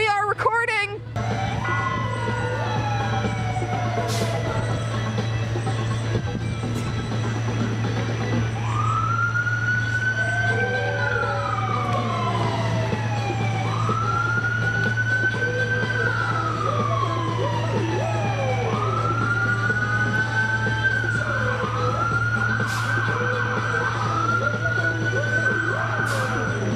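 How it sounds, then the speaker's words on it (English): Noisy street parade outside a filming location, with wailing emergency sirens repeatedly rising and falling over a constant low hum and crowd din, continuous and moderately loud. "We were filming during a parade, so it was a little bit noisy."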